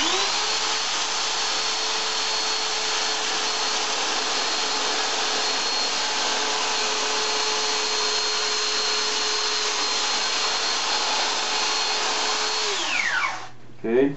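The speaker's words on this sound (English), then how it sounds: "I already sanded it once, but I'll sand it again just to show you" A wooden longboard deck has its rough edge sanded with a power sander, a steady, loud motor whir running unbroken for about thirteen seconds before winding down and stopping.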